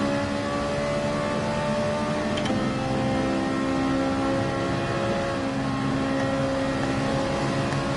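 Ferrari race cars in Gran Turismo 7 roar on a straight, a loud, continuous engine drone with steady tonal harmonics and a brief shift in pitch partway through, no voices present.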